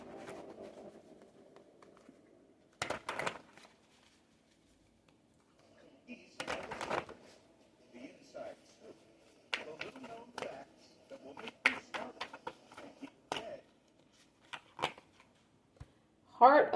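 Tarot cards are shuffled in a quiet room for an Aries reading: soft riffles, taps and slides come in irregular bursts, with long quiet gaps and brief low voice sounds between them.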